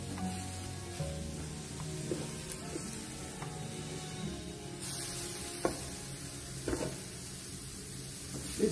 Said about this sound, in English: This is how I smoke my shrimps before I cook with it